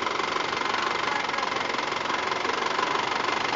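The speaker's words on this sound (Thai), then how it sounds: "เครื่องหอบนานหรือยัง บึนบึนแบบนี้เป็นนานหรือยัง" A car engine idles unevenly and labours, with a steady, rough, slightly knocking rumble that holds continuously throughout, close and moderately loud.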